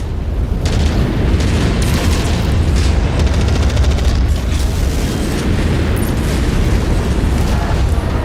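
Missile explosions in MechWarrior 5: Mercenaries come as a dense, continuous barrage of loud booms and bursts, with crackling impacts layered throughout and no pause.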